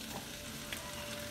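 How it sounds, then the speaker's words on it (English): Spicy noodles frying in a hot pan, giving a continuous dense sizzle and crackle with occasional stirring scrapes, close and steady, no voices. "we got a little sizzle going on"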